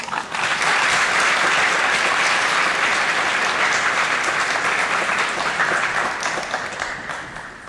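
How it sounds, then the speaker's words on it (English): A commencement ceremony audience gives sustained, loud applause for the graduates' parents, a dense wash of clapping that holds steady and tapers slightly near the end. "give a round of applause to your parents"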